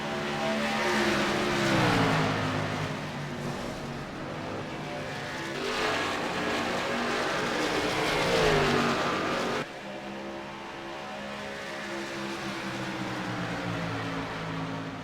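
Several race cars roar past on an oval track, engines loud and rising then fading as they pass, with a continuous drone of other cars circling in the background.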